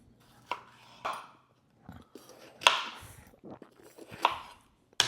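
A sharp knife chops venison into pieces on a cutting board, a handful of separate crisp cuts spaced unevenly with quiet pauses between, close and clear with no talking.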